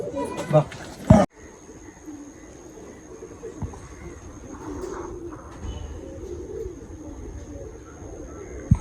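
Pigeons in a loft cooing softly and low in the background, under a voice talking over them, with a brief loud rustle or knock near the start.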